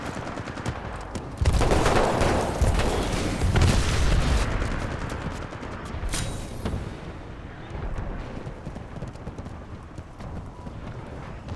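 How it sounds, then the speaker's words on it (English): A grenade explodes in the shooter game Titanfall 2, a loud burst of blast and rattling gunfire that peaks early, then trails off into quieter scattered shots and crackles. "that was a lucky grenade kill"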